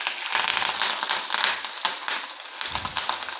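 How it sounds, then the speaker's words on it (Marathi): Green chillies crackle and splutter as they drop into hot oil already tempered with mustard seeds, cumin and garlic, a loud, dense, continuous sizzle with sharp popping bursts throughout and no voices. "थोडंसं लांब उभं राहायचं म्हणजे त्या तडतडतात तेला टाकल्याबरोबर"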